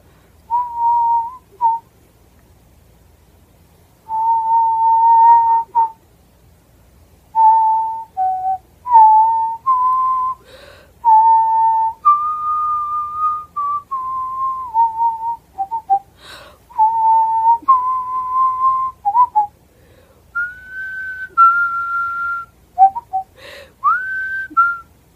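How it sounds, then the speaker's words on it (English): A single person whistles a slow, wandering melody from Mahler's Ninth Symphony in clear sustained phrases, close and alone, with short pauses between lines. "I would like to try to whistle for you some of Mahler's Ninth Symphony"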